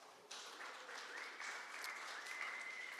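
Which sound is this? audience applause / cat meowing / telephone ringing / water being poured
audience applause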